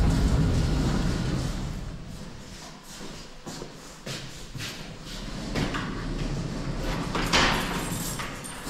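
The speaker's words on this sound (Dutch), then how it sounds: "Voilà, de deurtje gaat open." A small door opens close by with a few clicks and a soft scrape, amid shuffling and handling noises.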